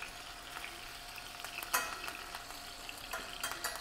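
Fresh herbs frying in hot oil in a pan while chicken thighs cook, giving a steady bright sizzle with occasional sharper crackles and a few light utensil stirs.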